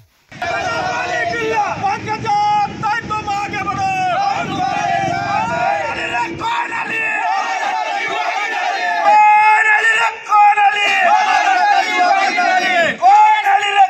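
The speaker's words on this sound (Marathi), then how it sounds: "कार्यकर्त्यांमधून फटाके फोडत घोषणाबाजी करत" Party workers celebrate a ministerial swearing-in in Beed, a loud close crowd shouting slogans together in rhythmic chants and cheers, a continuous dense roar of many voices.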